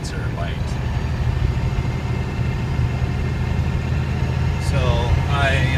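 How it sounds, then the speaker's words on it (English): A 6BT diesel swapped into an FZJ80 Land Cruiser runs with a steady, low rumbling drone, close by and fairly loud, while someone talks over it and a faint rising turbo whistle appears briefly near the end. "you definitely hear the diesel engine, and you hear the turbo spool up"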